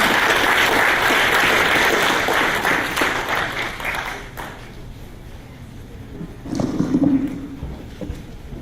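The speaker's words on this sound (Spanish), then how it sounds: "entonces aplaudamos a nuestros invitados," An audience at an arbitration panel discussion applauds the panelists, a dense burst of clapping that fades over several seconds, followed by a brief spoken voice.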